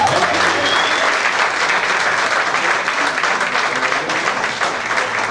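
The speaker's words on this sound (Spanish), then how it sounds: "Dale un aplauso fuerte, Señor." A church congregation applauds loudly and steadily for about five seconds, a dense, sustained wash of clapping with no break and no voices standing out.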